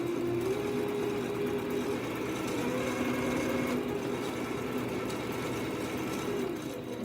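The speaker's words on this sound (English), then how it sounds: "you're just sewing from one piece to the next, and we're using a 1/4 inch seam allowance" Sewing machine chain stitching quilt pieces with a 1/4 inch seam, a steady fast mechanical whir running continuously, close and even, with slight speed shifts.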